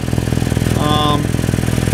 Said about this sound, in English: I've got it with car running and you can hear it leaking quite badly